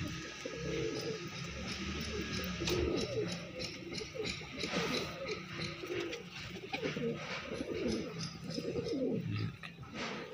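Soft, repeated pigeon cooing from a cage layered over a steady background hum, with occasional faint chirps; several birds close by, no speech.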